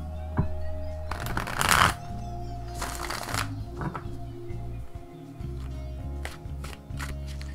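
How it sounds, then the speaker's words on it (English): Tarot cards being shuffled by hand, riffling bursts and soft slaps repeating unevenly over several seconds, close up with faint background hum. "Shuffle until I think I've had enough."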